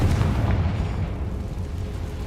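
The Confringo explosive spell in the video game Hogwarts Legacy lands as a deep, booming blast with a heavy low rumble that lingers and slowly fades.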